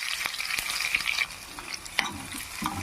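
Pepper, cumin, small cut cashews, chopped ginger and green chili frying in oil in a pan, a steady close sizzle with occasional stirring clicks for semiya idli seasoning.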